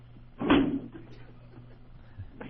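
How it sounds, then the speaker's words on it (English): A door kicked open in a bathroom stall during a radio show stunt, one sharp loud bang followed by a few quieter knocks and rattles. "He kicked the door open."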